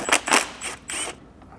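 A ratchet wrench backs out 10 millimeter bolts near a car's oil pan, giving a few quick metallic clicking bursts close up, the last one fading.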